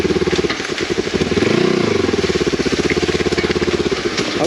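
A Kawasaki Versys-X 300 motorcycle engine running nearby, loud and pulsing steadily, with a brief swell in revs partway through.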